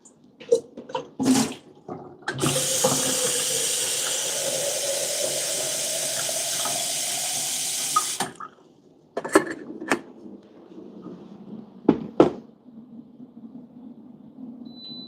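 Water runs from a tap to fill a kettle for boiling in a coffee roastery, a loud steady gush lasting about six seconds with rising pitch as it fills, bracketed by clunks and knocks.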